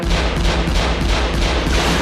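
A gunfire sound effect delivers a dense, loud fusillade of rapid overlapping shots that rattles continuously from start to finish.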